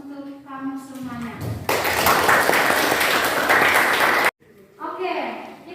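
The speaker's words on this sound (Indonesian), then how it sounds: "Silakan berikan aplaus untuk kamu semuanya" Classroom applause from students in an international trade lesson, a broadband burst of clapping lasting about two and a half seconds between stretches of a teacher's talk.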